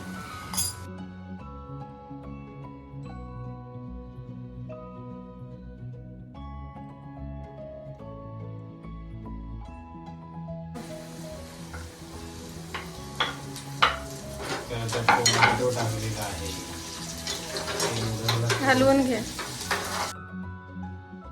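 Chillies sizzle in a hot pan in a home kitchen, stirred with a utensil. After a quiet start with a faint tonal background, steady frying hiss rises about halfway through, with sharp clinks of the spoon against the pan and some speech.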